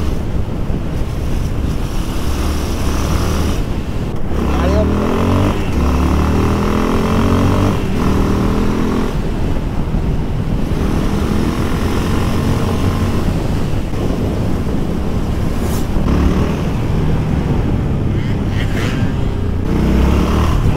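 Single-cylinder supermoto motorcycle being ridden, its engine droning steadily close by under constant heavy wind roar buffeting the microphone, with no voices.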